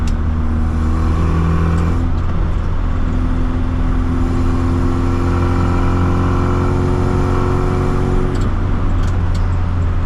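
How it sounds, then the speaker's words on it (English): A 1965 Austin Mini Cooper S under way, its engine and carburetor giving a loud, steady, fizzy drone with shifting tones as revs change during driving, close and continuous throughout. "It's angry, it's fizzy, the carburetor noise is amazing"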